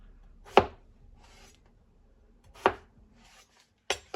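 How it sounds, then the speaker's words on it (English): Knife chopping a peeled potato into cubes on a cutting board, three sharp separate chops spaced a second or two apart, close and clear with quiet gaps between. "after you peel the potato, we're gonna just cut it into cubes."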